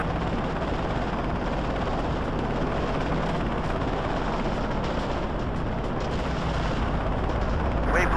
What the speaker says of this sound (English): Hostile chopper identified!